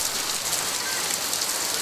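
Heavy monsoon rain pours steadily in a Konkan village during the Ganesh Chaturthi festival, a dense, continuous hiss with no gaps and no voices over it.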